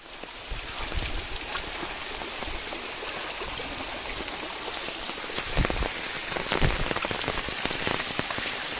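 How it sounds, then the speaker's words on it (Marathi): Water rushing steadily at Panshet dam, a dense broadband wash that stays close and loud, with splashy surges swelling near the end and no voices. "चालू पाणी दाखवतो तुम्हाला. पाणी बघा."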